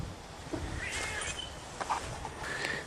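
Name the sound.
cat meowing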